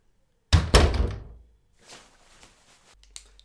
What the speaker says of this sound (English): go ahead and close the door on your way out